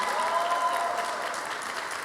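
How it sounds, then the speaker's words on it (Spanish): A church auditorium audience gives a welcoming round of applause, continuous moderate clapping with no break across two seconds. "Así que le regalamos un aplauso de bienvenida."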